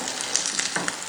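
Mixed vegetable kebabs fry in a hot pan with oil, giving a steady close sizzle and crackle with a few small pops, and no one speaking.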